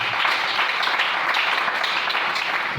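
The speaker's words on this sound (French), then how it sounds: "Est-ce qu'on peut acclamer le Seigneur?" A church congregation applauds and cheers for the Lord during a sermon, with loud, dense, continuous clapping filling the space throughout, without any individual voice standing out.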